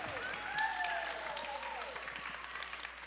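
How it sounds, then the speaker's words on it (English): An audience at a CreatorIQ Connect conference session applauds as panelists come onto the stage. The clapping is steady and fairly close and lasts the whole span, with a brief whistle-like tone sweeping through it. "I'm gonna act like all these claps are for me"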